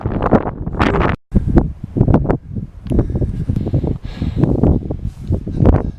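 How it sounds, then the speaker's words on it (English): Gusty wind on the Mount Ashland summit buffets a microphone sheltered behind a rock, with loud, uneven rumbling bursts and brief lulls, close and continuous throughout. "It's a little bit windy, so I'm hugged up behind this rock."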